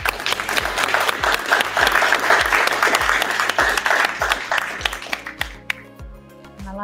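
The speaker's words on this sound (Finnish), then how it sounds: "annetaan Jennille aplodit." Audience applause, dense and sustained clapping from a group, close and full, thinning toward the end as a few scattered claps remain and some tonal background sound rises beneath.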